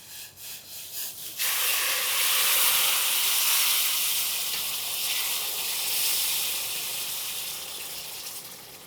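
Hot water poured into roasted semolina bursts into a loud hissing sizzle after a quiet start, then settles into a sustained steamy hiss that slowly fades.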